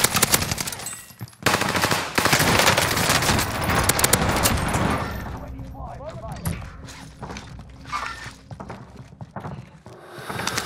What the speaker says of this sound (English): They were sniping at him.